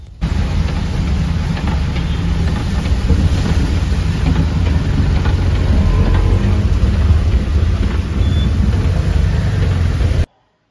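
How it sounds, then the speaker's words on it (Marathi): Heavy downpour drumming on a car while travelling toward Satara, a loud steady roar of rain and road noise, continuous and close, with no talking, cutting off abruptly near the end. "धुवाधार पावसात मी निघाले होते साताऱ्याकडे प्रसादला भेटायला"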